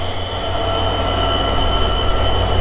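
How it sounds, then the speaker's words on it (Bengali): A 6600 series locomotive of the Drutojan Express, Dhaka to Panchagarh, hums steadily up close, with a constant low drone, tonal whine and faint squealing overtones. "এই ছিল আমাদের লোকোমোটিভ ছয় হাজার ছয়শো সিরিজের লোকোমোটিভ"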